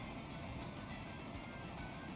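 The train battle in Final Fantasy VI Pixel Remaster, a steady rumbling rail-like drone with a dense mechanical rattle that holds evenly throughout without distinct impacts.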